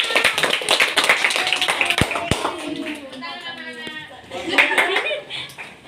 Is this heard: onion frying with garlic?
no